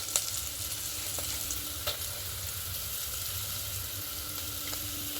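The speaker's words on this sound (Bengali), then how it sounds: "দিয়ে এবার হালকা করে একটু দু তিন সেকেন্ড একটু নাড়াচাড়া করে নেব" Paneer pulao ingredients frying in a pan with salt, stirred briefly, give a steady close sizzle and crackle with a few light scrapes and taps from the stirring spoon, no voices.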